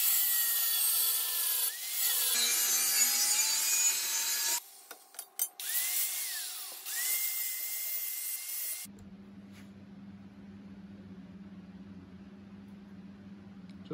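A bandsaw cuts curves into a wooden piece, its blade rasping loudly through the wood with pitch shifts as the cut turns, brief pauses between passes, then a lower idling motor hum once cutting stops.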